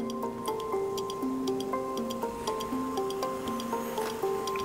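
Sparkling sake poured slowly for a tasting, giving scattered fizzy ticks and drips over steady background music.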